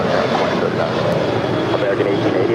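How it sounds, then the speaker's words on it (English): A Southwest Airlines Boeing 737-800 arriving at LAX from Baltimore makes a steady, broad roar of jet engines and rushing air that stays loud and constant throughout, with no distinct breaks. "That is Southwest Airlines Flight 2911 coming in from Baltimore, Maryland. It's a 737-800."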